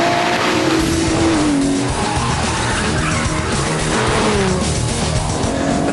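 An Aston Martin DBS powers hard around a handling circuit, its loud engine roaring continuously while the tires squeal and skid through the corners, with the engine note rising and falling across the run.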